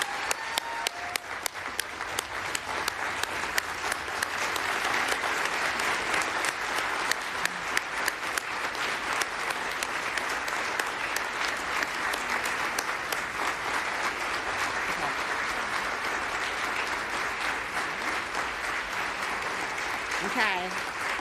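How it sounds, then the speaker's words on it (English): An audience at a human rights defender award ceremony gives a long, sustained round of applause, with dense clapping holding steady throughout and the crowd filling the room. "please join me in one more robust round of applause for all of our phenomenal"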